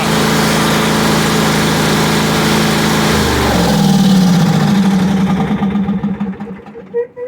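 A lawn mower engine running after the choke is applied, a loud, steady close-up drone that shifts pitch partway through, then sputters and fades unevenly toward the end, with a dirty carburetor.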